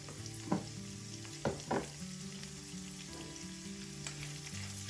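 Chana dal, mustard seeds and green chillies fry in hot oil with a faint, even sizzle, broken by a few brief crackles and stirring bumps.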